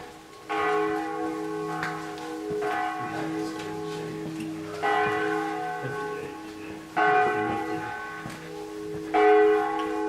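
Church bells of the Chiesa di San Pietro e Paolo in Cusano Mutri, Campania, ring out at 4:30 in the afternoon, several rich, sustained peals struck in succession with long ringing tails, heard clearly across the village.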